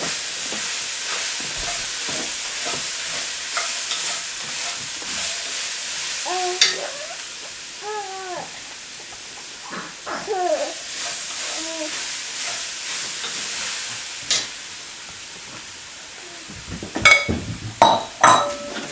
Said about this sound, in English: So we're going to stir that and let that cook a little bit.